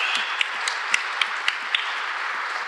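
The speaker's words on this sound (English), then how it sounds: "A huge round of applause" An audience breaks into sustained applause at a live panel event, a dense wash of many hands clapping with a few sharper claps standing out, steady throughout.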